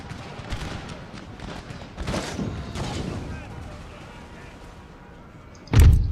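Artillery fire in Empire Total War, a few muffled distant booms spread through the stretch and one sharp, loud blast near the end, with speech over the battle sounds.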